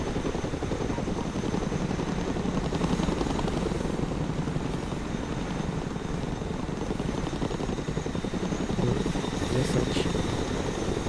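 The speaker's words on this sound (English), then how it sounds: "Let's go and recover it with our helicopter." Cargo helicopter in a military training video game, flying on a recovery mission for a broken-down vehicle, its rotor and engine giving a loud, steady, close drone that continues without a break.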